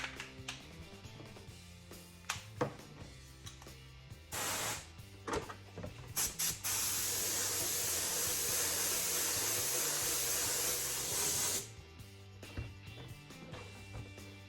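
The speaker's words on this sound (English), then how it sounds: "So I'll quit talking and we'll spray some paint." Spray paint hissing from a spray gun onto a Pro-Line Ford Pinto drag car body: a short burst, then a long, steady hiss lasting several seconds, between quieter handling noises.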